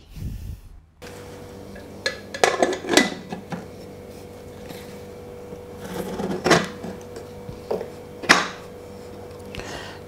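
Metal clanks and scrapes as a pressure cooker lid is fitted and closed over cooking mutton, several sharp knocks spread across otherwise quiet kitchen noise.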